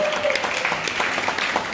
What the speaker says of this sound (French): Est-ce qu'on va applaudir